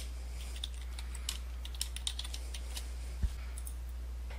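Rapid, light keystrokes on a computer keyboard while answers are entered for a Zoom poll, soft clicks in an irregular run over a steady low hum, ending with one slightly louder tap.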